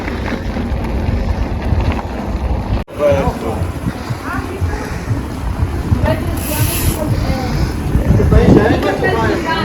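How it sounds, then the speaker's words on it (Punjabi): Wind rushes and buffets against the microphone during a countryside bicycle ride in Italy, a steady low roar with gusty surges, loud and close, while a person talks throughout. "ਹਵਾ ਵੀ ਚੱਲ ਰਹੀ ਥੋੜੀ ਥੋੜੀ"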